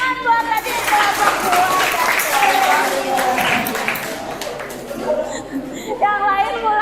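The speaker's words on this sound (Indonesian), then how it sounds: "beri tepuk tangan buat tadi kelompok" Classroom clapping for a group of students, a short burst of applause mixed with overlapping children's chatter and a teacher's voice, with tonal voices continuing over the claps.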